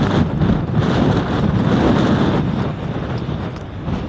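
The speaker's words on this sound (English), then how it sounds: "Obviously it's a bit more windy up here." Strong wind buffeting the microphone on an exposed fell above Stickle Tarn, a continuous loud roaring rush with slight swells and no voices.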